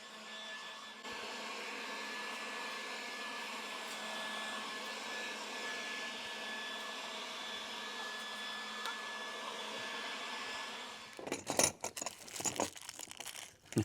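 Compressed air hisses in one long steady blast for about ten seconds while dust is blown off a part for a Dutch door on a gypsy wagon build, then gives way to short irregular bursts and rustling near the end.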